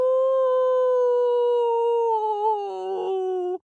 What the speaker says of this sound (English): other wolves began to howl